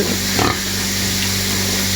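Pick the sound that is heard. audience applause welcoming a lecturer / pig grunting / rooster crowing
pig grunting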